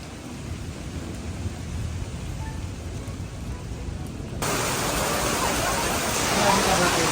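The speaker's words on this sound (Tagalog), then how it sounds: "Yan po at bumuhos na po ang napakalakas na ulan." Heavy rain pouring down outdoors near Binondo, a dense, steady hiss and roar that suddenly grows louder and fuller midway and stays loud to the end.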